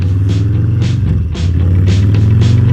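A 2022 Harley-Davidson Softail Standard with a Stage 1 upgrade revs loudly and close by. Its V-twin idle rumble is broken by about five sharp throttle blips in quick succession.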